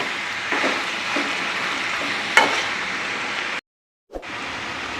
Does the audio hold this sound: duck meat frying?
yes